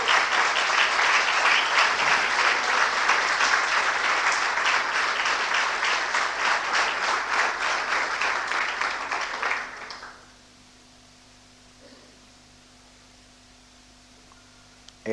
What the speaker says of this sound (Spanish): Aleluya, un aplauso para Héctor Sarza.